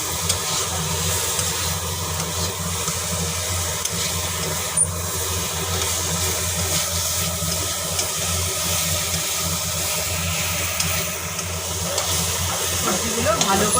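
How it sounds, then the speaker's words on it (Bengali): Ridge gourd and potato pieces fry and get stirred in spice paste for an egg curry, giving a steady, loud sizzling hiss that runs through the whole stretch with no pause. "এবারে দিয়ে দিচ্ছি ঝিঙে, আলু। সবগুলো একসাথে কষিয়ে নিচ্ছি।"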